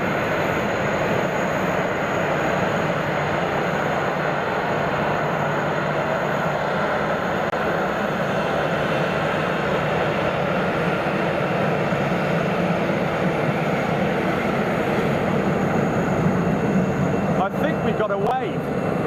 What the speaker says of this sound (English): Sun Express 737